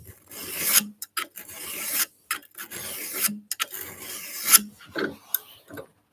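Hand file rasping against the edge of a garden tool clamped in a vise, a series of short close scraping strokes separated by brief pauses, with no voices.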